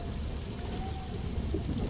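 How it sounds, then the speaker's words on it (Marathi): Heavy monsoon rain falls in Mumbai, a dense, continuous patter and wash of drops on surfaces heard close and steady for the whole stretch, with no talking. "पाऊस बघा, मजबूत पाऊस चालू आहे."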